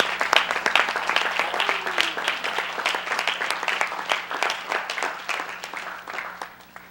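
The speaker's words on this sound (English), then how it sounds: "Give Mr. Yahuwah a hand clap because he's worthy." A church congregation claps along during a livestreamed worship service, a dense, steady patter of many hands lasting throughout, fairly loud and close, easing off slightly at the end.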